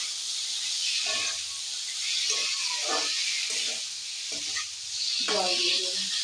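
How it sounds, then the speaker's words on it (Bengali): Half-boiled taro pieces, tossed into a pan of spices cooked with prawns, hiss and sizzle while a spoon stirs in several short scraping bursts; no one speaks. "এবার হাফ সিদ্ধ কচুর গাঠিগুলো দিয়ে দেবো। একটু নেড়ে চেড়ে"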